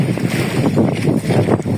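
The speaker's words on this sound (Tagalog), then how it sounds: "Lakas ng hangin." Strong wind buffeting a fishing boat at sea, a loud continuous roar of gusts and microphone rumble mixed with water wash, with no talk.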